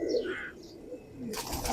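A Ferozpuri pigeon gives a soft, brief coo nearby, followed by a short burst of rustling or fluttering.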